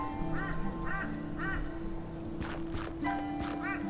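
Crows in the video game Shardlight, with a handful of rough caws spaced through the scene at moderate distance over a steady low ambient hum of game music, no voices.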